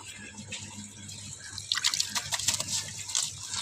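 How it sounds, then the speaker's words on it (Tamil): Water pours and splashes into a freshly washed fish tank meant for an alligator gar, with a steady trickle that grows into louder uneven gushing and splashing partway through. "இப்போ தண்ணி ஊற்றிக்கலாம்."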